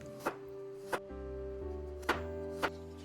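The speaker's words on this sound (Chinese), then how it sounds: "把蒜切片" Garlic cloves being sliced with a kitchen knife on a cutting board: four sharp, evenly spaced chops over a low steady hum, fairly close.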